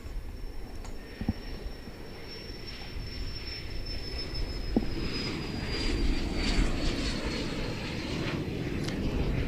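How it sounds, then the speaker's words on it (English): An Asiana Airlines Airbus A330 airliner takes off, a steady broadband engine roar with a high whine that slowly builds in loudness, heard from a distance without any talk. "Next, to take to the skies, Asiana Flight 303. It's going to Changchun,"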